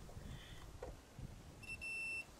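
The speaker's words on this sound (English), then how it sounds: "We hear the beep, so this wire is good." A steady electronic beep from a multimeter's continuity test on a good wire, following a few faint ticks of handling, sounding once for roughly half a second at moderate loudness.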